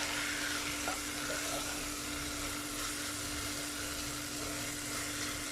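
Pav bhaji mixture cooks in a pan with a steady, soft sizzle and bubbling throughout, stirred now and then, with a constant low hum underneath and no talking.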